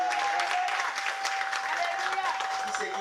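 A church congregation claps and cheers for about three seconds, a dense wash of applause with a voice speaking over it.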